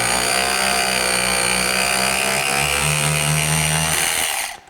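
A DeWalt Xtreme 12V sealed head ratchet loosens a tight bolt with a high, steady motor whine and a buzzing grind. The whine climbs slightly in pitch, then the motor cuts off abruptly at the end.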